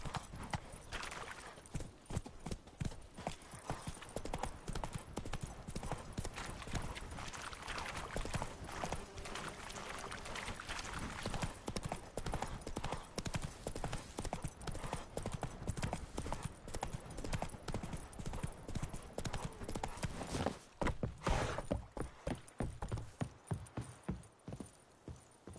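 Roach, Geralt's horse in The Witcher 3, gallops with a fast, continuous drumming of hoofbeats that stays loud and close throughout, while a whinny and faint voices come through now and then.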